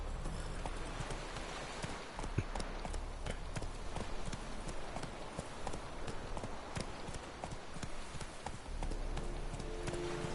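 Horse hooves clip-clopping in The Witcher 3: Wild Hunt, a steady stream of quick, sharp hoofbeats as the horse climbs, layered over a dense, constant game ambience for about ten seconds.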